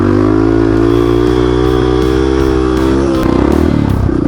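Honda XR650R supermoto engine close and loud, droning at steady high revs for a first gear wheelie, the tone shifting into choppier revving near the end.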